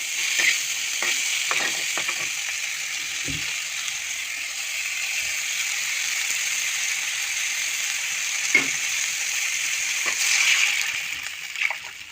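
Meat with onion that has been soaked in water sizzles steadily in a pan while momo filling is cooked, a continuous close frying hiss broken by a few scraping stirs of a utensil, with no talking.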